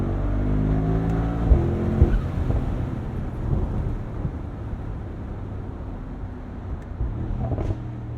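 A 2023 Mercedes-AMG SL 63 on overrun in manual mode, a deep engine drone falling in pitch with crackles and pops from the exhaust, heard from inside the moving car.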